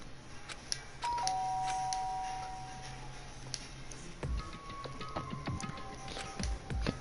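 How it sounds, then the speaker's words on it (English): A two-tone doorbell chime in the video game Danganronpa: Trigger Happy Havoc sounds clearly and then rings again a few seconds later, with soft taps and faint background noise. "did I hear the doorbell?"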